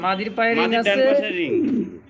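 Imported breeding-pair pigeons with leg rings, kept at a pigeon seller's loft, coo in low throaty phrases close by while someone talks over them.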